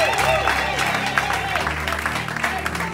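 A church congregation at a European seminar applauds and cheers in a sustained, dense wash of clapping, with voices calling out and singing over it throughout.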